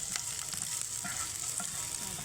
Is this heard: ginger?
yes